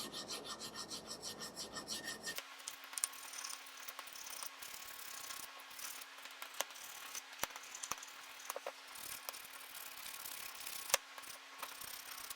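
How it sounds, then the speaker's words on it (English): A hand file rasps rust off the brake caliper bracket of a Jeep Renegade during a front brake job, steady rough scraping strokes repeated close up after a brief louder burst at the start. "you can take a file and just clean that rust up"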